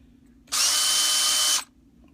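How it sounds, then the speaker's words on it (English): A power drill fitted with a 5/64 drill bit runs in one steady, loud burst of about a second, working on a 1/12 scale CRC front suspension part, then cuts off to near silence. "if it doesn't, just take a drill again. Drill bit 5/64."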